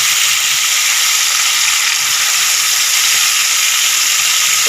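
Marinated fish hits hot oil in a pan and sets off a loud, steady, close sizzle that hisses on without pause and without speech.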